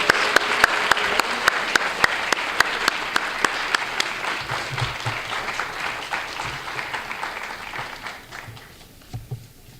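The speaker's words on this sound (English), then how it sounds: "Could you please give a warm round of applause to all our entrance scholars?" A warm round of applause for entrance scholars at a student awards ceremony, steady crowd clapping with a few sharp individual claps standing out, fading toward the end.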